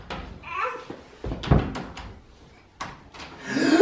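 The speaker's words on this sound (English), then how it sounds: "He can open doors!" A door is opened and closed several times with knocks, thuds and a creak, close by, and a child babbles softly in between.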